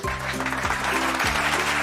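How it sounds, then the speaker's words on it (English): Hands clap together in a brief burst of classroom-style applause, a steady crackle of claps over a low sustained musical tone, lasting under two seconds with no speech. "Will you clap your hands if you understood the differences between the two?"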